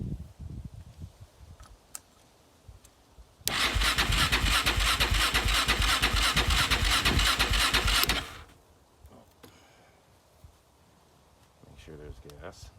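A fire-damaged, rebuilt Yamaha Raptor 660 ATV engine cranks and catches, then runs loud and steady for several seconds before shutting off, with quieter handling noises around it.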